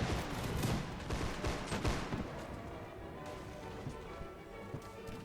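Line infantry firing musket volleys in Mount & Blade Warband, a dense, continuous crackle of overlapping shots with heavier thumps early on, fading into a scattered, more distant rattle.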